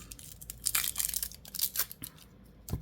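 Crinkly plastic wrapping is torn off a tarot card deck and crumpled up close in quick irregular bursts, with short pauses between rustles.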